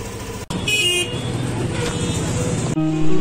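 Busy city road traffic heard from a moving scooter: a dense engine and road roar runs throughout, with short horn toots cutting through, and a sharper honk near the end.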